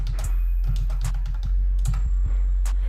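Fast, irregular keystrokes on a computer keyboard as a page title is typed into an online store's admin panel, close and clear over a low steady hum, with no talking.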